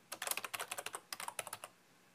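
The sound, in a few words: typing on a computer keyboard to log in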